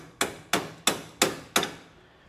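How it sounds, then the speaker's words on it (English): Five evenly spaced hammer blows strike a jammed rod end on a heim joint to break it free. Each metallic hit is sharp and close, with a short ringing decay, and no one speaks. "Take your favorite hammer"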